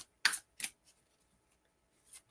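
Tarot cards being shuffled by hand during a live reading, a few quiet crisp riffles and soft flicks spaced out over a couple of seconds, close and faint with no talking.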